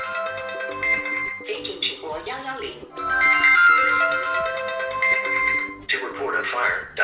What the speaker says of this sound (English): you can check your ringtone here. Just click here and listen if you can hear it clearly.